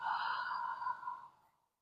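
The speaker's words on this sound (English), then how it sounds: "Big exhale." A long, deep breathy exhale during a postpartum Pilates session, a steady airy whoosh close to the microphone that fades out to silence.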